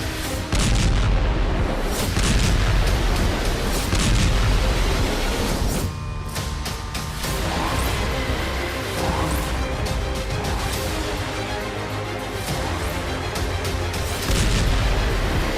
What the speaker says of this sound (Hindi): सोमवार को सूमी में ये जोरदार धमाका हुआ